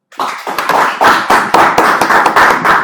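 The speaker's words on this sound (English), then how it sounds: "Round of applause." Audience applause at a Toastmasters club meeting, a room of hands clapping steadily and fairly close for nearly three seconds, with dense overlapping claps forming an even, continuous patter.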